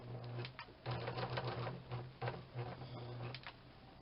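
A sewing machine stitches a seam on a small folded fabric bag, including a backstitch, with a steady mechanical chatter that runs in several bursts separated by brief pauses, close and fairly quiet.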